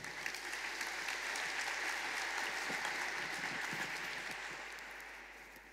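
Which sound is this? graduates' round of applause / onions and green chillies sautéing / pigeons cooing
graduates' round of applause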